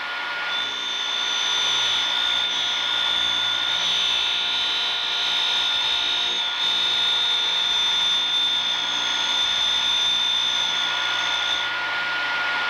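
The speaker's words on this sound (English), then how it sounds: "Feed into the wheel until you are grinding on all sides of the radius." Grinding wheel sharpening a radius end mill held in a Cuttermaster fixture, a loud steady whining grind with a sustained high tone lasting nearly thirteen seconds, close and continuous, with no voices.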